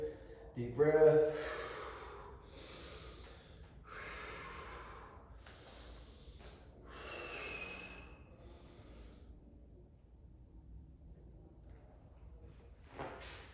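Deep breathing during a stretching routine, slow audible inhales and long hissing exhales repeated several times, close and fairly soft, with a snort-like breath at the start.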